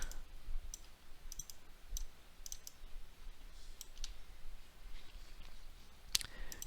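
Faint, sparse computer mouse clicks while components are dragged into place in the Robot Rumble 2 robot builder, single and double clicks spread out over a quiet background hiss, with no voices.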